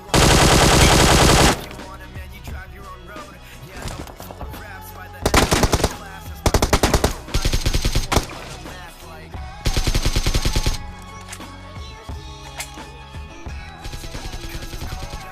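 Bursts of automatic gunfire in the battle-royale game BGMI on the Sanhok map, Groza against AKM: a long loud opening burst and then several shorter rapid volleys, close and sharp, separated by quieter game ambience.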